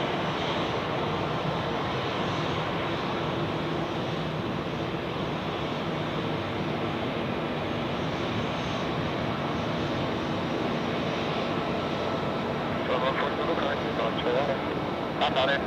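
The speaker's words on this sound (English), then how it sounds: "And on short final is the Swiss flight from Sao Paulo, Swiss 777-300ER." A Swiss Boeing 777-300ER on short final into Zurich Airport, a steady broad jet roar holding at an even level throughout, fairly distant, with a commentator talking over it.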